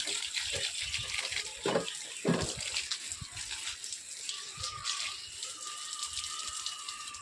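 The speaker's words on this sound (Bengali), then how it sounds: "জল দিয়ে দিই।" Water splashes and patters steadily onto garden plants and soil as they are watered, a continuous close hiss with a few heavier gushes, no talking.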